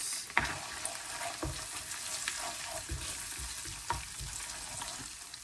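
Garlic, chilli flakes and tomato sauce fry in a pan for a Korean chicken sauce: a steady close sizzle with a few sharp stirring knocks, and no voices.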